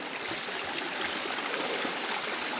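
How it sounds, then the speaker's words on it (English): A small stream flowing down a hillside along the Appalachian Trail, a steady, close rushing and babbling of water with no pauses. "nice little stream,"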